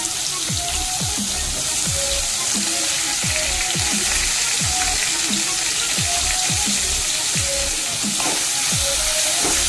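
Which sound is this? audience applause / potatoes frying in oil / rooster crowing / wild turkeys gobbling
potatoes frying in oil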